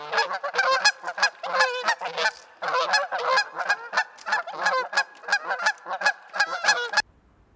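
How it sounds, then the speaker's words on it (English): Cackling geese calling in a steady flurry of short, high, yelping honks, many birds overlapping in quick rhythm, fairly close and continuous until a sudden cutoff near the end. "cackling geese have a call like an alto,"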